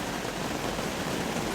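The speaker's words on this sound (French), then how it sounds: "Une pluie qui joue, qui murmure, qui tambourine surtout" Summer rain falls steadily and softly in a broad, even patter, with no distinct individual drops and no voices.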